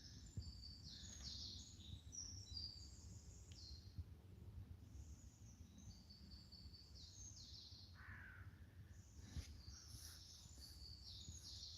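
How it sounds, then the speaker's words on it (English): A bird sings in quick, high chirping phrases, repeating in bursts with short pauses over a faint, quiet outdoor background. "Listen to that beautiful bird singing."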